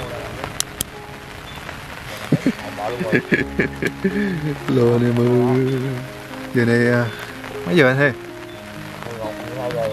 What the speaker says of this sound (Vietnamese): anh em nghe tiếng mưa không? Ồ, trời đang mưa này.